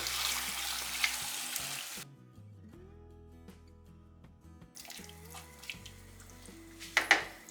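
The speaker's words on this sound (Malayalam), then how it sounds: "ഇനി ഇതിലേക്ക് നമുക്ക് വേവിച്ച് വെച്ച മട്ടൺ ഇട്ട് കൊടുക്കാം. നന്നായിട്ട് മിക്സ് ചെയ്യാം." Cooked mutton is stirred into fried onions for a mutton roast. A soft frying hiss stops for a few seconds and then returns with louder stirring scrapes, over faint background music.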